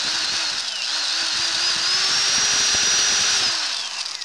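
An old Skil 1/4 inch corded electric drill runs steadily, a loud whining motor hum that holds its pitch with slight wavering before winding down at the end.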